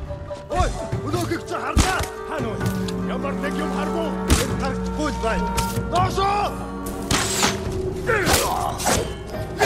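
Cannon fire in Ghost of Tsushima, heavy booming thuds and crashes scattered through a busy battle scene, with a voice talking over the repeated impacts and ringing metallic clangs.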